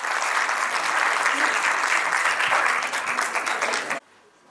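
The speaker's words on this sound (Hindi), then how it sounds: "जोरदार तालियां दें" Loud, sustained applause from a crowd at a Mission Shakti ceremony in Ghaziabad, India, fills the space, then cuts off abruptly near the end.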